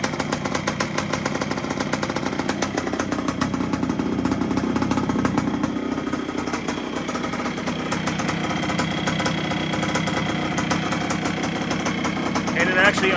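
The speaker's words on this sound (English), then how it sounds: "And it actually idles." A rebuilt 1973 Yamaha CT3 motorcycle engine idles steadily on its first run, a close, even mechanical patter that holds for the whole stretch, with a voice occasionally talking over it.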